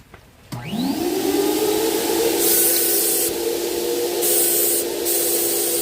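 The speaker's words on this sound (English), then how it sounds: "I'm just spraying on the ground to make sure it's on evenly" A paint sprayer's motor whines up to speed, then a steady hissing spray of primer runs continuously, with a loud whirring drone and occasional bursts of harsher hiss.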